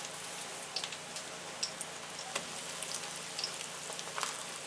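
Steady sizzling and crackling of crab cakes frying in a big hot frying pan, with scattered pops over a continuous hiss.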